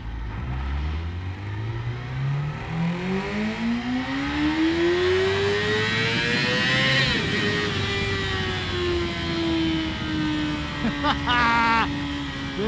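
A 2018 Yamaha R6 sport bike revving hard under a rider, engine pitch climbing steadily through a long gear then dropping on a quick-shifted upshift, loud and continuous with wind noise.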